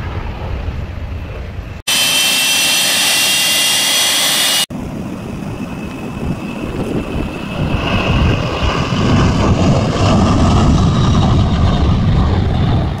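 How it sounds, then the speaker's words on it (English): Roar of jet airliners taking off near a parked Boeing 747-400, a loud, broad engine rumble and hiss that builds steadily, with a sudden harsh blast of close noise early on and no talking. "there's airplanes taking off over here"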